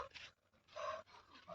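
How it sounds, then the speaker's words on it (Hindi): A person panting heavily in quick, breathy gasps during a comedy sketch shoot, with bursts of rapid breathing separated by short pauses, close and fairly loud with no speech over it. "कहाँ इतना हाँफ रहे हो?"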